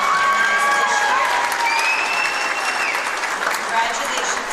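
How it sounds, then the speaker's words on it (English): A gym crowd at a high school boys basketball game applauds and cheers through a ceremony for the Winter Sports Queen candidates, with steady clapping, scattered shouts and high squeaks under it, and voices mixed into the noise. "Let's have a big round of applause for all of our candidates this year."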